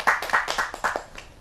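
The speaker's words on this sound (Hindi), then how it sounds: "आप सबकी जोरदार तालियों से" An audience at a kavi sammelan, a Hindi poetry gathering, gives a brief burst of applause: a few sharp, uneven hand claps close together that quickly thin out.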